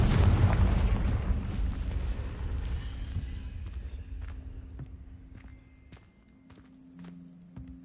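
Confringo explosive spell cast in Hogwarts Legacy, a loud boom at the start that rolls off into a long fading rumble, followed by light footsteps and small clicks.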